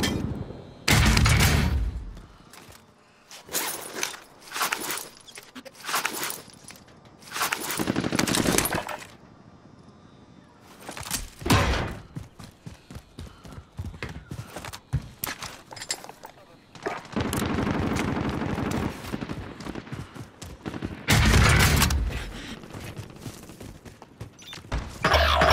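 Gunfire and an air strike in a battle royale video game, with bursts of rapid automatic fire, single shots and heavy booming impacts separated by quieter gaps, mixed with occasional radio-style voices.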